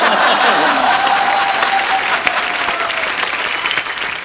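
An audience on a Hindi comedy show stage bursts into loud, sustained applause, a dense wash of clapping from many hands that holds steady throughout with a faint voice beneath.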